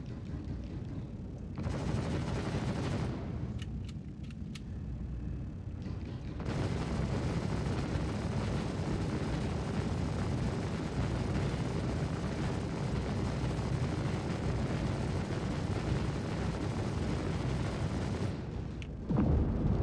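Sustained, heavy turret fire in a video game, a dense rumbling barrage broken by a short lull and then resuming loudly with little talk.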